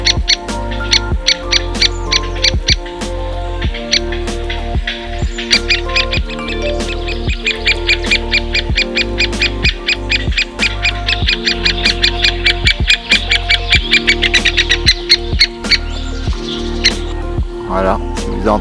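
Recorded great spotted woodpecker calls ring out as dense, rapid high-pitched notes in a continuous run, with a steady low hum and rhythmic lower-pitched pulses underneath throughout.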